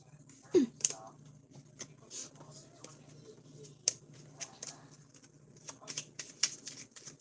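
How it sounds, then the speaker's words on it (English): Playing cards being shuffled close by, a few crisp riffling bursts and scattered card snaps spread unevenly over a few seconds in a quiet room. "Shuffle those cards back in there."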